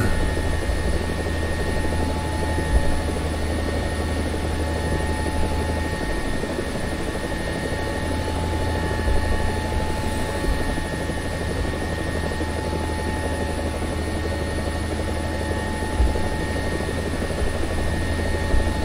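Mi-24D attack helicopter in War Thunder flying over Syrian oil fields, a loud, steady rotor and turbine drone with constant chopping hum throughout, no voices.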